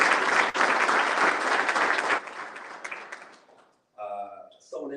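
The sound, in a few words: audience applause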